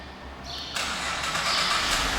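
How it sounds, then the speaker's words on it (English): A 2011 Cadillac CTS Premium Coupe's engine starts by remote start: a brief starter whir, then the engine catches with a sudden surge and settles into a steady idle. "Just lock it up and hit the remote start"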